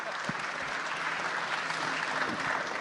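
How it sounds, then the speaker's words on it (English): Steady round of applause from an audience at an interview event, a dense continuous wash of clapping holding at an even level for the whole stretch with no voices rising above it. "Give a round of applause. We could clap for that."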